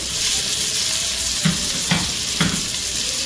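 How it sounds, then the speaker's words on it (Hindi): Onions sautéing in hot oil already tempered with cumin and dried chillies for Pahari daal chaunsa, a steady close sizzle broken by three brief stirring scrapes. "अनियन डालते हैं, थोड़ा सौते करते हैं अनियन को,"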